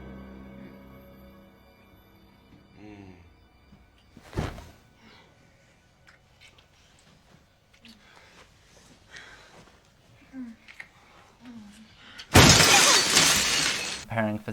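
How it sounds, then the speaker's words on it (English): Windows burst into a sudden loud crash of shattering glass in a scene from the film Hollow Man, arriving near the end after quieter dramatic sounds and thuds. "In his angry rage, he shatters their windows."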